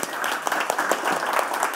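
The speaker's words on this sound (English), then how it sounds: "let's have a big, great round of applause for Katie" An audience applauds a speaker at a talk, with dense, steady clapping from a crowd throughout and no voices.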